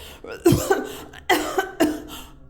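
Three harsh coughs come in separate bursts about a second apart, each loud and close, followed by a brief rasping tail.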